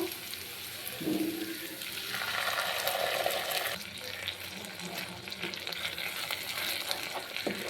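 Ginger paste and spice paste with cashew and poppy seed paste being fried in a pan, a soft continuous sizzle with stirring and scraping, fairly quiet and steady.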